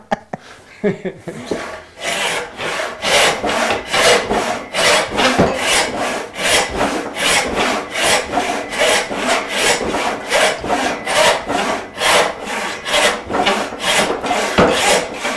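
A handsaw rips lengthwise through a thick wooden beam in steady back-and-forth strokes, a fast even rhythm of rasping pushes that is loud and close after a brief start, with no talking.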